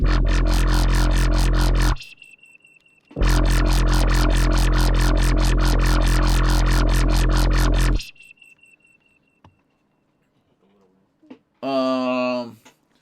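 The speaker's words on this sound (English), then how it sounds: "build something crazy distorted and then take the auto filter and do this kind of shit" A harsh, heavily distorted synth pulses in rapid repeated hits, cutting out briefly, then stops; a short squelchy auto filter sweep follows near the end.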